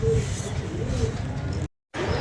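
Pigeons coo in soft, low, rolling calls close by, continuing steadily against a background hum, with a brief dropout near the end.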